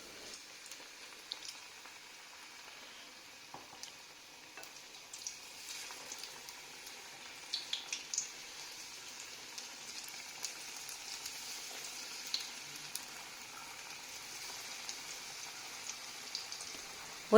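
Onion slices coated in bhajji batter fry in hot oil over a low flame, a faint, steady bubbling crackle with scattered small pops throughout and no talking.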